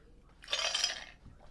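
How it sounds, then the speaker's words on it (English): Crisp crunching of ice being chewed after eating spicy Flamin' Hot popcorn: a single close burst of brittle crackling lasting about half a second, with no talking. "Chew on the ice."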